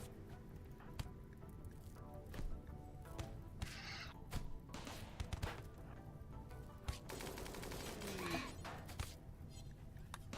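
Rapid bursts of gunfire in the colony-building video game Rimworld, a dense fusillade of sharp cracks and repeated shots with busy clashing combat sounds throughout, fairly quiet overall.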